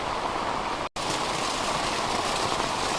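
Heavy monsoon rain pours down outside a house in Kerala during the Karkidakam season, a dense, loud, unbroken roar of rain on surfaces, briefly cut off for an instant near the start.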